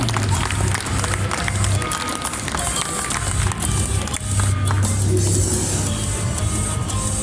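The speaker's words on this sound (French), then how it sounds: "On peut applaudir Yanma, troisième sur le tournoi Tekken." An esports tournament crowd in Colmar claps and cheers for a Tekken player, a dense, steady roar of applause with scattered shouts mixed in.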